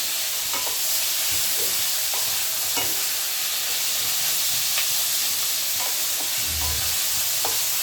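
Chopped tomatoes frying with onions in a pan for chana masala give a steady broad sizzle and hiss, with a few soft stirring scrapes and clicks breaking through.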